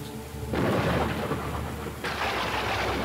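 Stormy weather with heavy thunder: a deep rumbling roar that swells abruptly, then surges again a moment later, loud and continuous over rain-like hiss, with no voices.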